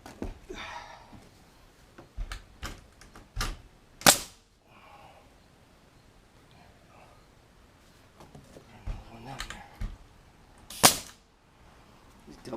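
A pneumatic nail gun fires nails during a bathroom renovation, sharp isolated cracks spaced seconds apart, two especially loud bangs standing out, with quiet clatter and faint voices between shots.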